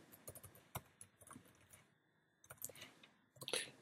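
A password is typed on a computer keyboard, quiet irregular key clicks in short bursts with a brief pause, close and faint.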